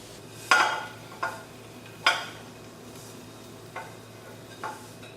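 Tabbouleh scooped into a plastic food container: a few separate soft scraping clacks, the first and third the loudest, spaced out over a quiet kitchen background with no talk.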